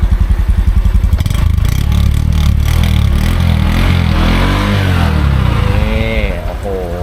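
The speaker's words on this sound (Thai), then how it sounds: "เครื่องดี ๆ เลยนะครับนุ่มๆเลย" A small used Suzuki off-road motorcycle engine runs smoothly nearby, a steady close putter with a slight rise in revs, while someone talks over it.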